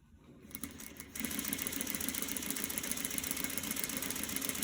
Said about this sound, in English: I'm going to stitch all the way down.